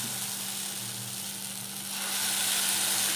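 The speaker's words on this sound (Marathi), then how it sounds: "आता आपण हे तव्यावर टाकूयात" Oats dosa batter hits a hot griddle and sizzles steadily, a broad hiss that swells louder partway through and holds to the end, with no talking.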